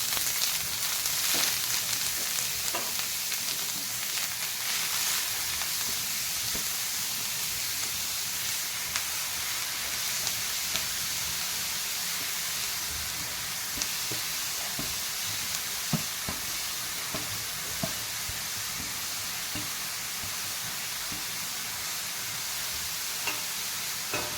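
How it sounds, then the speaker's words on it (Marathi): Grated carrot sizzles in hot ghee in a pan, a steady close hiss and crackle running throughout with scattered small clicks and scrapes of stirring, no speech. "तूप गरम झालेलं आहे, त्यामध्ये किसलेलं गाजर टाकून घेते"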